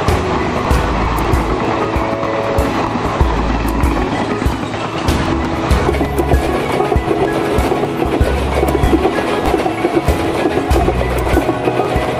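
A Konkan Railway train runs on the tracks with a loud, continuous rumble and a steady rhythmic clatter of wheels over rail joints throughout.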